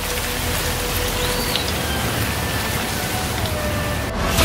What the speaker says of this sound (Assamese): সকলোৰে অপেক্ষাৰত এজাক বৰষুণ।